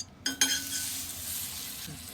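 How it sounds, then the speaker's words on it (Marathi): A buttered cheese garlic sandwich toasts in a pan, a couple of sharp clinks of a utensil at the start, then a soft, steady sizzle that holds close and even, with no talk. "हे पण आपण आता शेकून घेऊ चांगलं. आता ह्याला पण बटर लावणार खालून असं"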